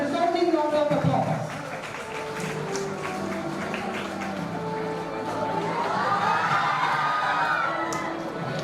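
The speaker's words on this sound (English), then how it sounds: "let us welcome her with a warm and resounding round of applause" Audience at a college of pharmacy symposium applauds and cheers to welcome the Dean of Academics, a steady crowd roar with clapping and some shouts that holds across the stretch, mixed with voices and music.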